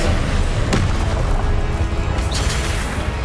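An Expelliarmus spell cast in Hogwarts Legacy lands as a sharp, booming crack, followed by a second lighter impact amid a dense, loud wash of battle noise.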